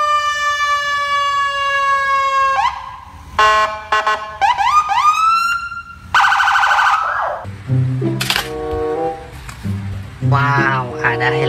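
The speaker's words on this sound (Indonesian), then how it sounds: "Mobil polisi." A wailing police car siren rises and falls at the start, then gives way to overlapping toy-like vehicle sounds and voices, with a steady electronic tone pattern throughout.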